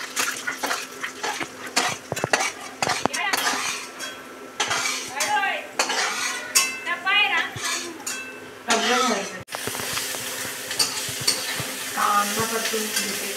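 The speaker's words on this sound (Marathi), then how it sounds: "कांदा परतून घेते." Onion being sautéed for poha in a village kitchen, stirring sizzle mixed with clinking utensils and scraping against the pan, with voices and other background sounds heard throughout.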